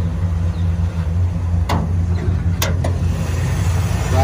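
A 1955 Chevy 210 flower car with a manual transmission idles steadily nearby, a constant low rumble throughout, with a few brief sharp clicks or knocks partway through.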